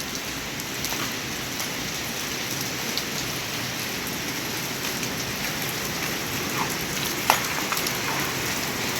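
Heavy storm rain falls over rice paddies in a constant, dense hiss with scattered louder drops, steady and unbroken for the whole stretch.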